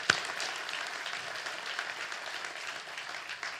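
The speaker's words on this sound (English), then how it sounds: "That all deserves a round of applause." Steady applause from a large crowd fills the space, a sharp clap or knock at the start, sustained at moderate volume without pause.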